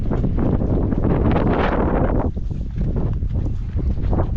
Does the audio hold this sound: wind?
yes